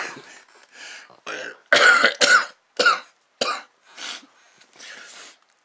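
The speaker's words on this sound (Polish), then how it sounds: "Przepraszam, że kaszlę" A man with the flu coughs repeatedly, giving a series of harsh, close, loud bursts with short pauses between them, and clears his throat along the way.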